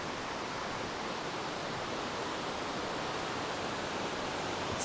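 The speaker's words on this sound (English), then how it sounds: "You can hear the river just next to me here." A river rushes down in a valley below a church among ruins, a steady, loud broadband roar of flowing water that holds constant throughout with no voices.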